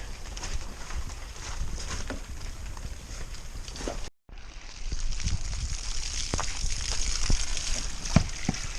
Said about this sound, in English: It's time to start the water fill